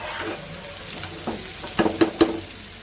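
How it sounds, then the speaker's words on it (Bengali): Onions and chilies sizzle steadily in hot oil, with a few sharp clinks of a utensil near the end. "ভেজে নিচ্ছি পেঁয়াজ কাঁচামরিচ দিয়ে দিচ্ছি"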